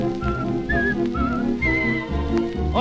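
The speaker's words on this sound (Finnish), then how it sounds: "viheltääpi hän näin tytön akkunaan" Whistled melody from a 1942 Finnish street-boys' song, a man whistling a tune under a girl's window, bright sustained notes gliding over a full orchestral accompaniment that plays throughout.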